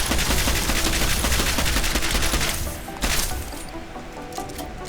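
Rapid automatic gunfire from a shooter in Deus Ex: Mankind Divided, a dense sustained burst of shots that eases off near the end, loud and close with no talking.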